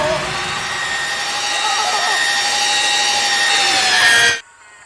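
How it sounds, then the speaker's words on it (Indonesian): A power drill runs steadily with a high whining, grinding tone, close and loud, and stops abruptly near the end, in an action film featuring Navy SEALs. "Tak lama kemudian anak buah Kristo membawa mesin bor dan..."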